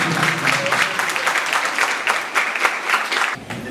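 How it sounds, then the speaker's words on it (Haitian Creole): Warm audience applause fills a hall during an agricultural training event in Trou du Nord, a dense continuous patter of many hands that holds steady and tapers slightly near the end. "Mesdames, Messieurs, je vous demande d'applaudir chaudement."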